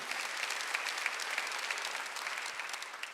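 A church congregation at a Sunday service applauds steadily, many hands clapping in a dense, even wash that carries on without voices and tapers slightly at the end.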